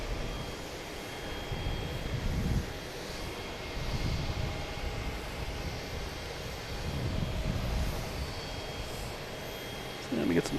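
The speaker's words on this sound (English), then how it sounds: "there's plenty of planes out here, plenty of activity" Aircraft engines rumble steadily across the apron at Logan Airport in Boston, a broad, sustained roar that swells and eases in waves, moderately distant, with no clear talk over it.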